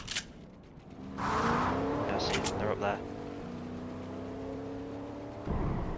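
Car engine in the Fortnite battle royale game, a rising revving whine with changing pitch and a brief skid-like burst, running steadily under and between talk from a player.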